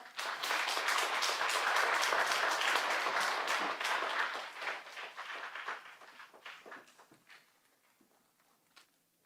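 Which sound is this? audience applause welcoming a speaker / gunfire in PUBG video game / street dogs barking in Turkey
audience applause welcoming a speaker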